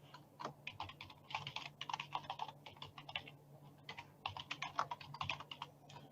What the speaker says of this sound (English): So I'm going to type in my email address.